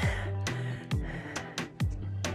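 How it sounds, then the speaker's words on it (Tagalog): Heavy, labored panting from a person who has just climbed a mountain, with repeated sharp gasping inhalations and breathy exhalations coming close and loud at a quick, uneven rhythm, no speech. "Ayan, hinihingal na ako."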